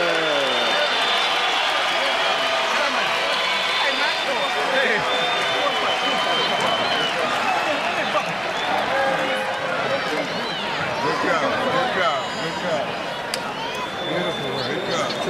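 Boxing crowd at a small heavyweight bout applauds steadily after a knockout, a continuous wash of clapping and cheering over ringside commentary.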